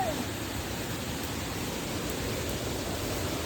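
A waterfall in Uttara Kannada near Siddapur roars steadily and close by, a dense unbroken rush of falling water filling the whole stretch.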